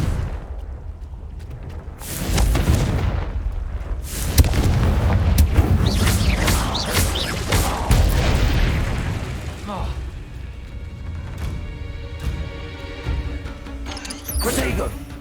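Confringo explosive spell blasts in the Hogwarts Legacy video game, several loud booming bursts and crackling impacts in a busy combat mix, with spoken spell incantations over them.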